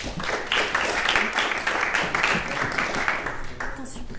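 Audience at a French talk event applauds invited guests with a steady, dense wash of clapping that stays fairly even for about four seconds, with some voices mixed in.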